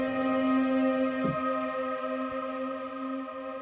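A sustained IK Multimedia Pianoverse piano chord with a shimmering, bright reverb tail, steady harmonic tones ringing evenly throughout, with a faint soft thump partway through.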